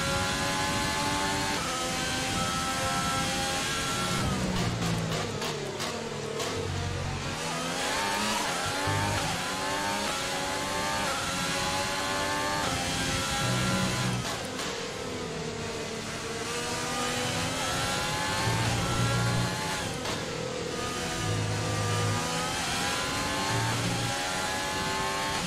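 A Ferrari Formula 1 car in F1 2020 screams through repeated high-pitched revs, rising and falling as it shifts through gears, loud and close over the whole stretch with no talking.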